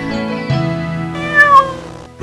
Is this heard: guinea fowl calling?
no